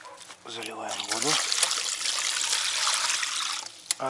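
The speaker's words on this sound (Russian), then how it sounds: "Заливаем воду." Water pours steadily into a cooking pot holding a cow's head parts with a continuous splashing gush, following a short spoken phrase at the start.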